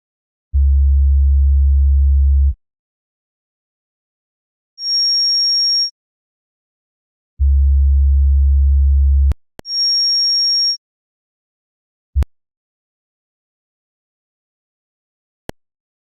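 Pure sine test tones sound one at a time: a steady low hum, then a thin high whistle, repeated, each held a second or two and separated by silence, followed by a couple of sharp clicks.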